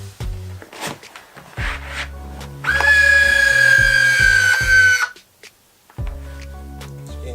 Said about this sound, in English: So as you apply weight to the pressure sensor, that's how the laces will tighten.